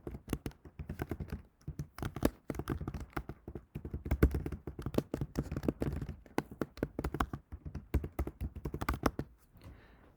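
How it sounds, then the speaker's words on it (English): Rapid, irregular clatter of fingers typing on a computer keyboard, close and continuous for about ten seconds with brief pauses between bursts of keystrokes, no voice present. "let me go ahead and type in my shortened version of this title"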